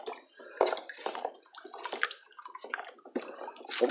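Homemade vinegar bar soap mixture is stirred by hand, giving irregular wet sloshing and scraping strokes that come close together in short bursts.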